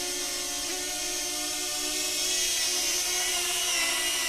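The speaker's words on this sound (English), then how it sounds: "Now the drone should go straight up" DJI Flip drone rising straight up in Rocket palm launch mode: a steady, close, high-pitched propeller whine with a constant buzzing drone, slightly shifting in pitch as it climbs.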